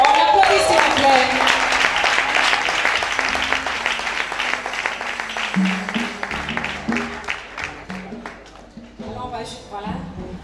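A crowd at a tribute ceremony for cantor Anna Teko applauds in a dense, sustained wash of clapping that slowly thins out, with a voice speaking over it near the end.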